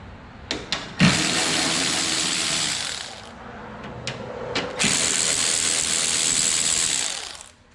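A power tool zaps bolts off a Toyota Tacoma headlight, with a ratcheting mechanical whir in two long bursts separated by clicks and small knocks, close and fairly loud.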